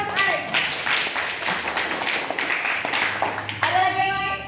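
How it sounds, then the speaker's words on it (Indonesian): Children applauding in a classroom, a scattered burst of hand clapping mixed with young voices and chatter, fairly close and uneven, tapering off toward the end. "tepuk tangan untuk Arif."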